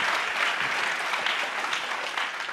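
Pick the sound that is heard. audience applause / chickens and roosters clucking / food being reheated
audience applause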